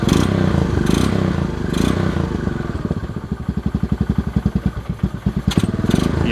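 A Honda dirt bike engine is cranked over, giving a fast, even chug of repeated pulses through the middle of the clip. Clatter and scraping come before it, and a few louder bursts at the end sound like it briefly catching.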